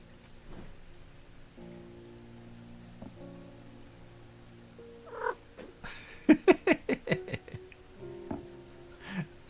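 A cat in the video game Strange Antiquities purrs softly under a bed of rain-like ambience, followed by a quick series of louder rhythmic chirps and pulses from the game.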